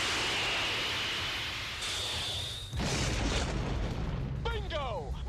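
An F-14 Tomcat fires a missile in the 1986 film Top Gun: a steady jet roar breaks into a sudden loud whooshing blast, followed by continuing rumble while voices shout over the radio.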